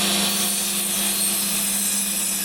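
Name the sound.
saw cutting through wooden dowels of old shutters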